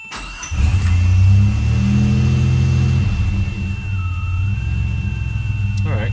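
A warm DeLorean engine cranks and fires at about half a second, then settles into a steady, loud, lumpy idle that runs on for the rest of the clip, close and with no talk over it.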